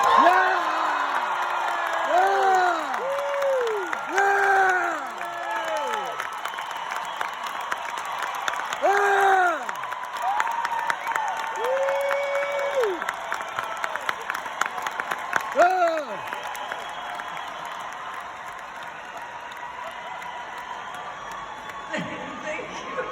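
An audience bursts into loud applause with whoops and cheers, clapping sustained throughout while a voice sings or calls out drawn-out tones over the noise.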